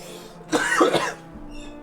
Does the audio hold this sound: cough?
yes